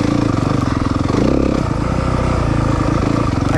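A 2023 Yamaha 250FX four-stroke off-road motorcycle engine revs hard nearby, with a loud, throaty, pulsing roar that climbs and dips through several quick throttle changes.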